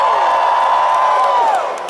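A crowd at an anime convention closing ceremony answers with a long, rising-and-falling chorus of "woo" cheers, loud and close, fading at the end.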